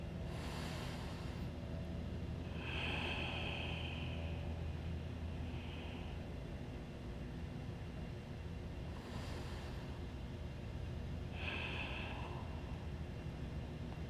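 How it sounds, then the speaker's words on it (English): Deep, audible breathing during a vinyasa flow yoga session: several slow, airy breaths swell and fade at intervals over a steady low background hum. "Deep breathing with sound."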